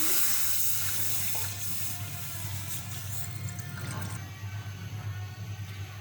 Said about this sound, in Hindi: ये दूध डाल रही हूँ मैं, इसमें गरम कर लूँगी।